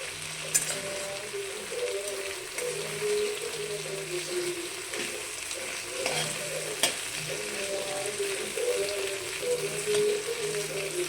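Pieces of kain fish frying in a pan and being turned over, a continuous close oily sizzle with scraping stirs and a couple of sharp clacks from the spatula, no talk.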